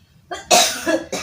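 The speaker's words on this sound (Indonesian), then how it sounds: "Batuk kuat." One strong, harsh cough bursts out close and loud, followed by a second shorter cough, with no talk around it.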